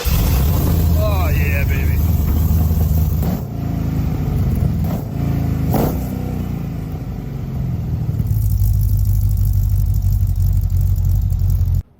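A custom 1955 Chevy truck engine with a throttle body fires up and runs, a loud rough rumble that revs and surges before settling into a steady idle, then cuts off abruptly at the end; a man exclaims briefly over it.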